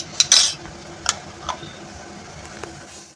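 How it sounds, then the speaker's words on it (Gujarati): A spoon clinks and scrapes against a pan while drumstick moringa sabzi is stirred, with a few sharp metallic taps over a soft background hiss of cooking, close by. "હવે આપણે આને બરોબર હલાવી દઈએ સરગવો અંદર એડ કરીને."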